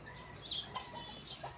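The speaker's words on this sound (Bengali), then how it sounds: "ওই যে পাখি, ওই যে উপরে বসে আছে দেখ, ওই দেখ কত পাখি" Faint high chirps and tweets from small birds at a bird park in Shimla, distant and scattered over a soft outdoor background.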